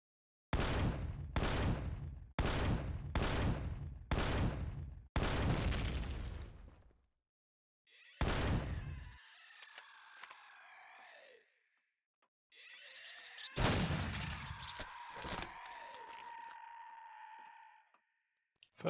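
Turret weapons fire in the space survival game Empyrion Reforged Eden, with five sharp, loud shots in quick succession and then a heavier blast. After that come scattered, rumbling impacts and a long, crackling burst that fade out at the end.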